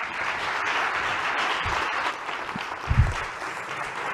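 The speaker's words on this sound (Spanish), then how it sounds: "Un aplauso." Audience applause at an interreligious colloquium, a steady broadband wash of many hands clapping that holds evenly for about four seconds, with a few low thumps near the end.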